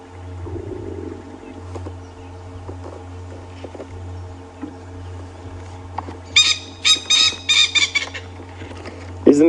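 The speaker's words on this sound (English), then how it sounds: "Isn't it such a bizarre call from such a beautiful little bird, that the Coqui Franklin" A Coqui francolin calling on a safari drive in the northern Sabi Sands, Djuma Game Reserve, its loud rhythmic squawking phrases near the end over a steady low vehicle engine hum, after a quieter stretch of faint rustling.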